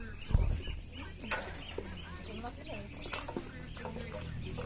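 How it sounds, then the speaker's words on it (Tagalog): Chickens clucking at feeding time, several birds calling in overlapping bursts close by, with a voice talking over them and a thump near the start. "Sunod na rin mga manok oh."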